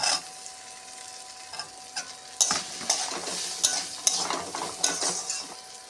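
Soybean, carrot and peas being sautéed in a pan for a home-style vegetable dal, with a steady soft sizzle under repeated scraping stirs and clinks from a spoon, close and moderately loud, no voices.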